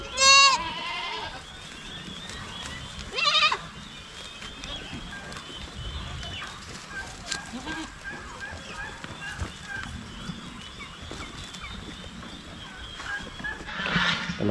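Goats kept on a Filipino farm bleat loudly a few times, at the start, again a few seconds later and near the end, over a low murmur of farmyard noise in between.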